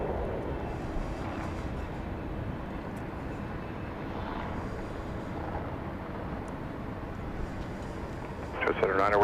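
A jet takes off at Dallas Love Field, a steady broad roar that stays loud throughout, with brief radio chatter bursting in near the end.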